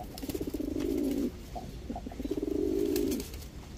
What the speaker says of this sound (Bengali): মাত্র 1300 টাকা এক পেয়ার কালদম কবুতর।